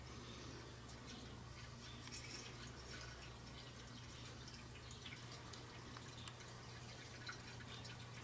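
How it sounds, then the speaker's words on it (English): Sugar-free Mountain Dew is poured into a 1965 Mustang engine, a faint trickling and dripping of liquid over a low steady hum in a quiet workshop, with no talking. "So we're going to put a little Mountain Dew in there."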